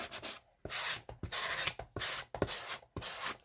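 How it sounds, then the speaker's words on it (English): Sandpaper rubbed over the edge of a workbook page in repeated strokes, each a rough, close scratching swipe lasting about half a second, separated by brief pauses in a steady back-and-forth rhythm, with no talking. "I used sandpaper, and that worked. I just ran it over the edge"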